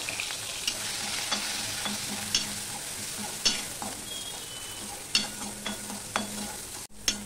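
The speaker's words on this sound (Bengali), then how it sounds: "এবার আদা আর কাঁচা লঙ্কাটা আমি দিয়ে দিলাম" Ginger and green chilli drop into a cumin tempering in hot oil and sizzle steadily, with soft stirring scrapes and clicks over the continuous frying hiss.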